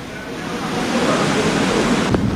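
Floodwater rushes past Kanaynayan Elementary School in Sta. Cruz, Zambales, at the height of a typhoon, a steady, loud, full roar that holds without a break throughout.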